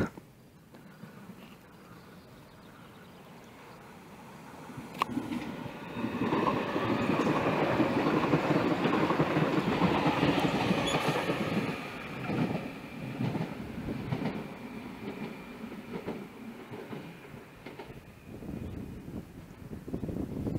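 An ÖBB 4023 Talent electric multiple unit departs as an S2 service to Villach from Rosenbach, building into a steady rolling rumble with rail clatter and wind buffeting on the microphone, fairly close and without talk.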